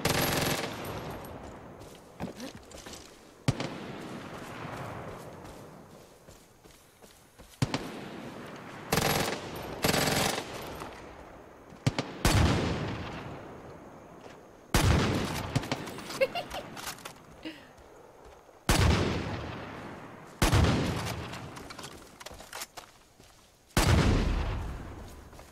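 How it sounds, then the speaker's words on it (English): Repeated loud shotgun blasts in the video game Far Cry 5, about seven sharp booming shots spaced a few seconds apart, each with a long decaying tail, close and dominant with no talk over them. "Always use your shotgun."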